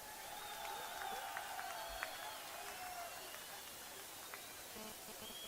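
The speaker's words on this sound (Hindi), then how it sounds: "तालियों के साथ।" A rally crowd in Srinagar welcomes Rahul Gandhi with steady, distant applause, a faint, even wash of clapping that continues without a break.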